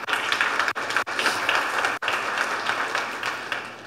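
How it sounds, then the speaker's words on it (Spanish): A church congregation applauding during a Spanish-language sermon, dense continuous clapping from many hands filling the room, steady and moderately loud with a couple of brief dips. "désele aplauso al Señor."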